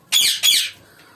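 A pet cockatiel gives two loud, harsh squawks in quick succession at close range, then falls quiet.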